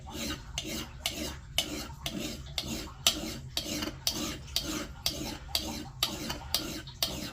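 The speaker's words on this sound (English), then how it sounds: "So it's another benefit to draw filing like that." Draw filing the edge of a Fiskars X27 axe blade with a hand file, a steady run of rhythmic rasping strokes, roughly two per second, close and alone.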